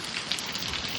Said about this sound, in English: right now I'm looking at a mixture of heavy rain and drizzle